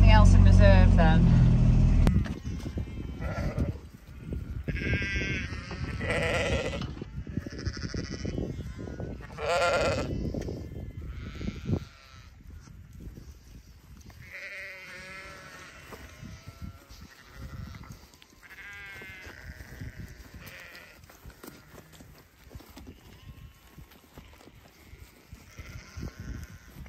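Ewes bleating out in a field, several scattered calls near and far, some loud and some faint, following a burst of wind or engine rumble at the start.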